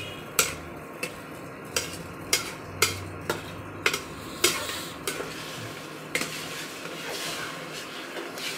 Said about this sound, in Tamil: இது எல்லாமே ஒன்றா மிக்ஸ் ஆகிற அளவுக்கு இதை நல்லா கிண்டி விட்டுகிட்டே இருக்கணும்